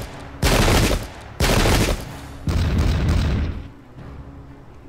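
Musket and gun volleys ring out in the Pike and Shot strategy game, three loud crashing salvos roughly a second apart followed by a quieter crackling volley, with no talking.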